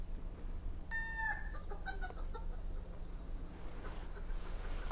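A chicken clucks in a short burst of calls, fairly close, over a steady low background rumble.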